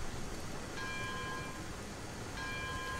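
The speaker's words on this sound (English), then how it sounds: "I love how the bell's affected by gravity" A locomotive bell rings in the Railroads Online game, two clear metallic strikes ringing out over a steady rumbling, rain-like hiss of the train.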